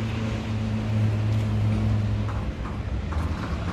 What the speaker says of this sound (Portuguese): eu pedi pro proprietário tá ligando a moto para nós poder escutar o ronco dela